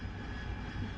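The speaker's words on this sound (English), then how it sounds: "Harrier engine spooling down" An AV-8B Harrier jet engine in DCS winds down with a steady, broad roar and a low rumble, loud and continuous for the whole second with no voices.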